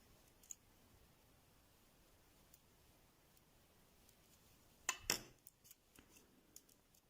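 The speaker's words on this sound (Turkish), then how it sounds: "burayı çift düğüm atıp kesiyorum" Scissors snipping thread during needle lace work, a quiet room with a faint click early on and then a couple of close, crisp cuts followed by small ticks.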